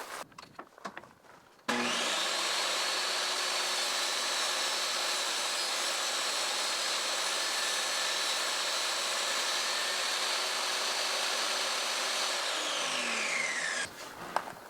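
A wood router cuts steadily while shaping a router jointer, taking off about 1/32 inch: a loud, continuous high whine with a rushing, grinding edge that holds for around twelve seconds, then winds down abruptly at the end.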